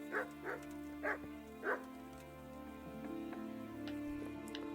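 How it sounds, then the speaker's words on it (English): A guard dog in the video game Kingdom Come: Deliverance barks four times in quick, moderately loud bursts, then goes quiet over a steady low hum. "Here's a guard dog."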